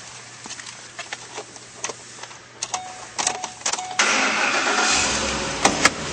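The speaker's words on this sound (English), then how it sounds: "Now we'll start her up." A 2012 Lincoln Navigator engine cranks and catches, then settles into a steady, fairly loud idle after a few clicks and knocks, with no talking.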